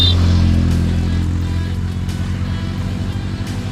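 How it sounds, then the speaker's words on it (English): A Bajaj Dominar 250 motorcycle rides along a road, its engine giving a steady, loud low drone that holds through the whole stretch with constant wind and road rumble, no voices. "having a good time riding the Dominar 250"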